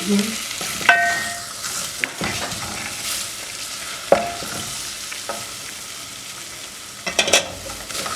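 Samosa ingredients frying in oil and being stirred, a steady soft sizzle broken by occasional utensil scrapes and clinks, close up with no talking.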